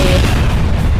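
A poison gun shot bursts in the Cat Tales video game, a loud, dense boom with a rumbling low body that fills the short moment without talk.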